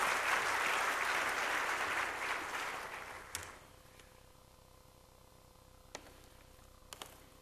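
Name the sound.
applause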